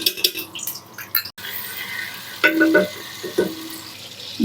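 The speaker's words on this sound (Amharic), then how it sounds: "ይሄው ሽንኩርቱ እየበሰለ ነው።" Onions sizzle in a pan of oil and butter, with soft crackling broken by stirring clatters and brief clinks of utensils.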